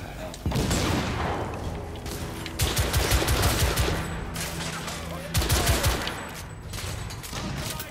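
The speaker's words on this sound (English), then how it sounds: "Is he shooting through the wall with me?" Enemy gunfire through a wall in The Order 1886, rapid bursts of automatic shots that come in dense volleys and pause between them, loud and close, with someone talking over parts of it.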